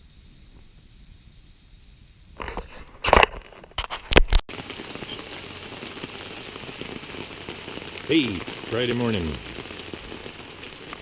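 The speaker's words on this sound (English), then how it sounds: "It started raining last night, sometime, I don't know. I couldn't find my phone. But it hasn't quit," Steady rain patters on a provincial park campsite, a dense continuous hiss with a few loud knocks and rustles nearby, while someone speaks briefly.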